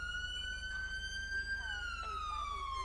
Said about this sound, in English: So this will be your main siren.